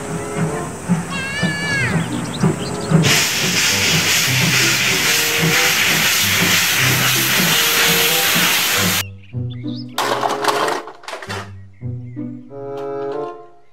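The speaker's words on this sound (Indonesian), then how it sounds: "Kereta Thomas." Toy Thomas train opens with a warbling whistle, then lets out a long, loud, steady steam hiss for several seconds before a chirpy electronic tune of short notes takes over.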